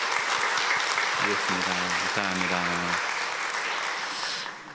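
A church congregation at a Sunday worship service applauds a returning missionary family with steady, dense clapping throughout, while someone speaks briefly over it.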